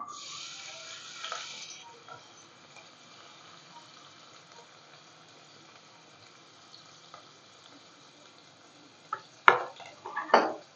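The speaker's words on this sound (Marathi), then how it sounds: "कांदा लालसर होईपर्यंत चांगला परतून घ्यायचा आहे" Chopped onion sautés in hot oil for a Satara-style mutton rassa, giving a soft, steady sizzle throughout, a little louder at the start, with a few sharp clatters of a utensil near the end.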